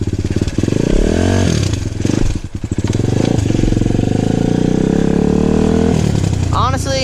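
An SSR150R dirt bike roars loudly up through the gears, its engine note rising in pitch, dropping at each shift near 0.5, 1.5 and 2.5 seconds, then climbing again, close and continuous throughout.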